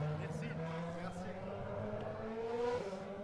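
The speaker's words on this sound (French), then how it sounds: "vous avez entendu le bruit très caractéristique de cette Formule 1 qui va maintenant passer devant nous" A Formula 1 race car engine roars at a circuit during an afternoon event, a sustained rising whine with engine harmonics climbing in pitch as it approaches, loud and continuous with a commentator talking over it.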